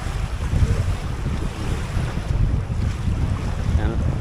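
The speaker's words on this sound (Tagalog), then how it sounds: "Yan ang makina niyan." Motor boat engine running beside the shore at a white-sand beach in Masbate, a steady low rumble mixed with wind buffeting and lapping surf, continuous and fairly loud throughout.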